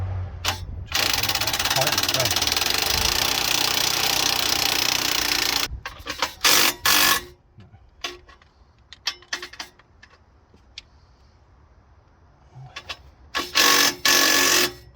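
A Subaru Forester fitted with new headers fires up for the first time, giving a loud, steady roar for several seconds. It then drops to a quieter idle broken by sharp bursts and revs, with people talking nearby.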